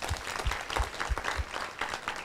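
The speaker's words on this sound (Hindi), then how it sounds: "तो सबसे पहले उन्हीं के लिए बारंबार तालियां" Steady rhythmic group clapping from an audience at a school performance event, moderately loud, with regular beats throughout.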